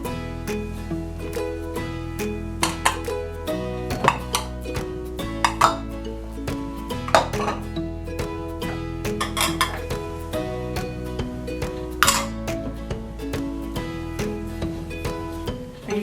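Butter, flour and salt being mixed into pretzel dough in a bowl, with repeated clinks and scrapes of a utensil against the bowl in an uneven rhythm, close and fairly loud.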